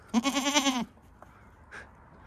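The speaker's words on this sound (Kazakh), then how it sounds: "Ана мүйізді ешкінің лағын іздеп тұр." A horned nanny goat searching for her kid lets out one loud, quavering bleat nearby, followed by quiet rustling and a faint short sound.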